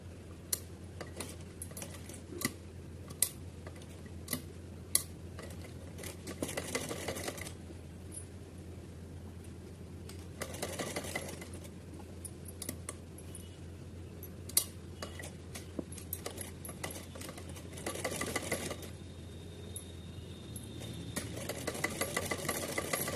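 Domestic sewing machine stitching the full circular hem of a small green dress for a Kanha ji idol, in intermittent bursts of rapid mechanical whirring and ticking separated by short quiet pauses over a steady low hum.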